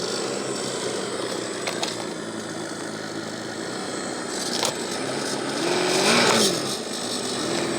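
A Jeep JK Max RC rock crawler runs its small engine with a continuous buzzing idle, rising to a louder rev near the end as the truck moves over backyard rocks.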